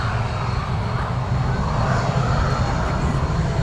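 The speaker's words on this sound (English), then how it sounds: "there's a TUI Dreamliner on the taxi out as well" A TUI Boeing Dreamliner taxiing out at Manchester Airport, its jet engines giving a steady, loud, continuous rumble and whine without talk.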